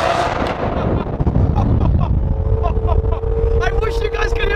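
A Lamborghini Aventador roars through an underpass, its engine echoing loud and close with sharp pops and crackles as revs rise and fall, and a voice briefly speaking over it.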